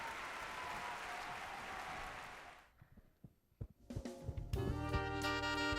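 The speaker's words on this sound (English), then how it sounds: "Let's give another round of applause for Maya Renee Campbell" Audience applause fills a university scholarship pageant hall, a steady wash of clapping that dies away after about two and a half seconds, giving way to scattered knocks and then sustained musical tones.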